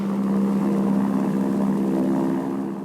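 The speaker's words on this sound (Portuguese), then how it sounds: "E aí um avião vem vindo." In a film scene, an airplane approaches with a loud, continuous propeller drone that holds steady and then eases off slightly at the end.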